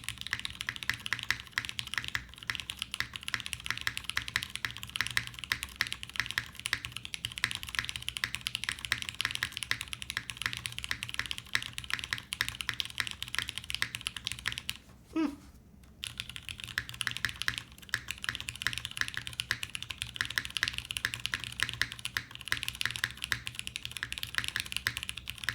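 Continuous brisk typing on a CW60 mechanical keyboard with ABS keycaps, a dense steady patter of close keystrokes with a slight resonance, briefly pausing near the middle before resuming.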